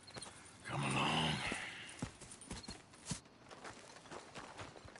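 Horses in the video game Red Dead walk with scattered hoof clops and a brief whinny near the start, all fairly faint with no talking.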